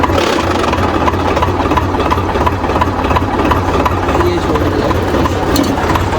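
A tractor engine runs continuously at a steady, loud idle-like rumble close by while someone talks over it.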